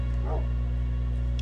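Dogs in the Minecraft video game barking, a short close yip sitting over a steady humming game background, with no talk.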